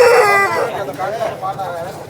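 A year-old rooster, about three kilograms, at the Vijayawada rooster market gives a loud harmonic crow at the start, followed by lower calls and clucks amid crowd noise and voices.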